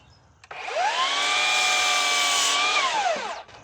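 A power saw cuts a 2x4 board to rough length: one cut about three seconds long, with a sharp whine that rises as the motor spins up, holds a steady high-pitched roar through the wood and winds down, loud and close.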